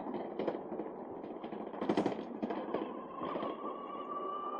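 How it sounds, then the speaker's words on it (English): Rattling kickstand on a pedal-equipped electric dirt bike ridden at about 30 mph, a rapid, irregular metallic clatter running steadily through the whole ride with bursts of louder knocking. "I wish the kickstand wasn't rattling around as much"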